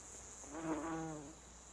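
A male wasp buzzes faintly near an orchid, a short, soft drone that swells and fades over about a second against a steady high insect hiss in the background.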